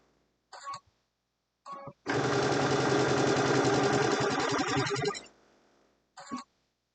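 A sewing machine stitches a pillowcase in one steady, close three-second burst, bracketed by short separate mechanical clicks and whirs before and after.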